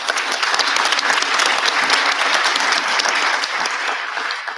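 Steady, dense audience applause fills the room after a panel of presenters at the PolicyWise annual general meeting, loud and unbroken with no talk.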